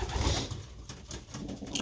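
Pigeons in a breeding loft cooing in low, murmuring bursts, with occasional soft wing flutters, close by and steady throughout.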